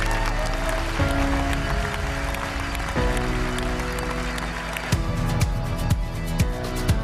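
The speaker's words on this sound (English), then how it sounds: "And everyone, round of applause please for Hambo." Audience applause at a televised fundraising event, a broad steady wash of clapping lasting several seconds with sustained musical tones underneath and a few sharper accents toward the end.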